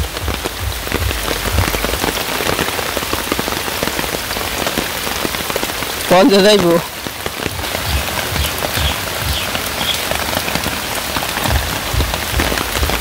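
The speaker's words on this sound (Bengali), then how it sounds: "ওই দেখেন বৃষ্টির অবস্থা।" Heavy rain pours in a village, a dense, loud drumming of drops on surfaces that runs throughout, with a short voice breaking in near the middle.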